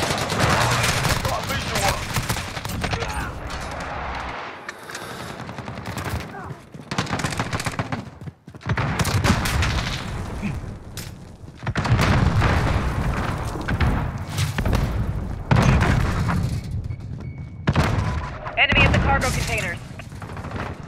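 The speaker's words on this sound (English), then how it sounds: "Enemy precision airstrike!" Heavy barrage of precision airstrike explosions mixed with rapid gunfire in a shooter video game, loud booms and rattling shots rolling in waves with short lulls, while voices are heard over the battle.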